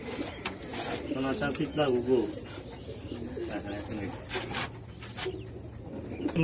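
A male pigeon at a pigeon loft coos in low, throaty repeated phrases, close and moderately loud, mixed with people talking nearby.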